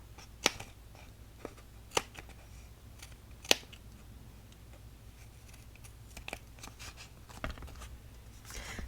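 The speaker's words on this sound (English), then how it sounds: "Just kind of snip that off." Scissors snip a small trim off a handmade paper card: a few faint, sharp, isolated clicks spaced a second or more apart against a quiet room.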